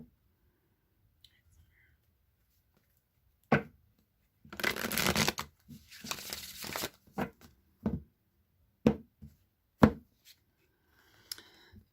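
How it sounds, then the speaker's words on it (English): A deck of cards is riffled and shuffled in a couple of quick bursts, with scattered taps and snaps around them and soft whispering nearby. "I'm going to give it 3 shuffles, cut the deck, and draw a card"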